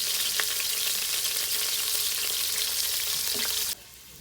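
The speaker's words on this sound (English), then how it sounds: "So we're just browning it on all sides. And put a nice sear on it." Meat browning and searing in a hot pan, a steady loud sizzle running continuously, with a few faint clicks, before it cuts off abruptly near the end.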